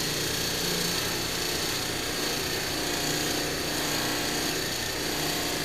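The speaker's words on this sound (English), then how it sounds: "I'll probably spend most of the day just buffing" A power buffer polishes parts from a 1966 Ford Galaxie 500 convertible during restoration, a steady loud motor whir with broadband rubbing hiss, continuous and close, with no speech.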